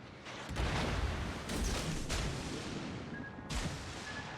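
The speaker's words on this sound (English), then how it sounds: "Launch the torpedo!" A torpedo launch in the naval combat game World of Warships, a series of dull booming thumps and bursts over a constant roar of sea and engine noise, with a thin steady tone entering near the end.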